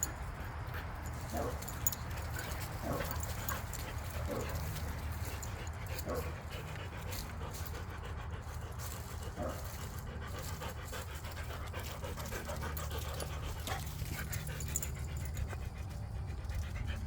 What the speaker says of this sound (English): Hold on, I gotta correct the dog.